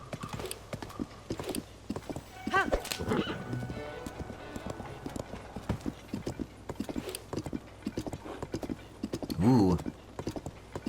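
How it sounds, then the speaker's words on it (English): Horse hooves in Zelda: Tears of the Kingdom clip-clop steadily through a rocky canyon, the rhythmic footfalls ringing off the stone walls, with a brief whinny partway through and some talk alongside. "I like the way the sound is like bouncing off the walls in here, all these rocky surfaces. The hoofs."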